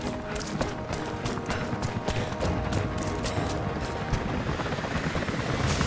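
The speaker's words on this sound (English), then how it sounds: "helicopters are headed your way" Helicopters approach in Rise of the Tomb Raider, a steady loud whir and rhythmic rotor thumping over a dense, noisy background that carries on throughout.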